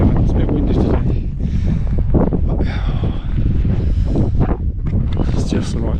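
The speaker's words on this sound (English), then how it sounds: "It's a bit windy today." Strong gusty wind buffets the microphone on a flat, exposed mountain summit of Rhinog Fach in North Wales, loud and continuous with roaring surges, and a voice can be heard under it.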